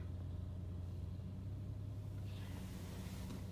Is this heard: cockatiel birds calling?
no